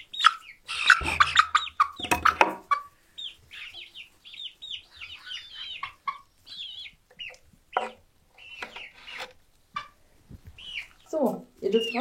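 Hens in a coop run give steady soft clucks and chirpy calls, close and moderately loud, with a burst of wing flapping and scuffling near the start.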